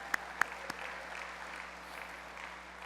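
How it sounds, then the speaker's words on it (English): Faint applause rises from an audience at a general session in the Dominican Republic, opening with a few sharp claps and then settling into a soft, steady patter. "So let's give Uku a round of applause in the back."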